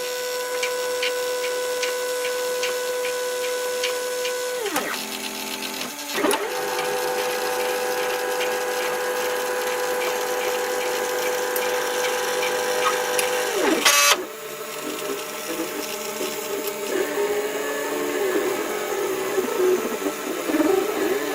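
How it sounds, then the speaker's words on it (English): A Prusa i3 3D printer lays down its first layer with whining stepper motors that sweep up and down in pitch, pause briefly, and carry on with steady mechanical tones and soft ticking, close and alone. "See if it's going to print that nice first layer."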